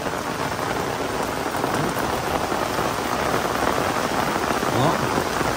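Heavy rain pours down steadily at a cemetery in Vietnam in a dense, even hiss, loud and close throughout with no break.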